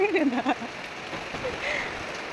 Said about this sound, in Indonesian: Masih hujan guys, dari tadi malam hujan.